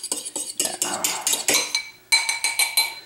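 A fork scraping and clinking against a bowl while stirring pie filling, a quick steady run of metallic taps and scrapes with a brief pause in the middle, close and clear.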